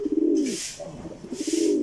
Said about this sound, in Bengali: কবুতরের সবসময় ডাকতে হইব